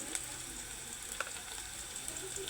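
Food fries in a pan until browned, a faint, steady sizzle with soft crackles and occasional small pops, heard alone with no talking.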